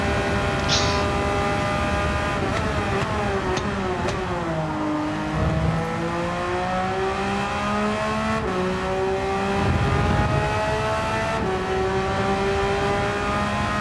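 Race car engine in the Gran Turismo 7 video game lapping a track, loud and continuous, its pitch climbing through each gear and dropping at shifts, with brief lower bursts between, steady throughout with no talk.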